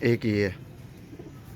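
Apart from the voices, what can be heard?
pigeons cooing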